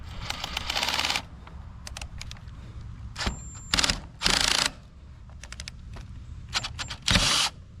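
Spark plug being unscrewed from a Craftsman T240 riding mower with a powered driver, bursts of loud buzzing ratchet clatter and mechanical clicking that stop and start, close up.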